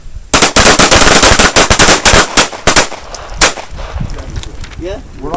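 A quick string of about a dozen loud, sharp handgun shots cracks out during a combat accuracy drill at a range. Afterward a few isolated pops and quieter handling noises follow.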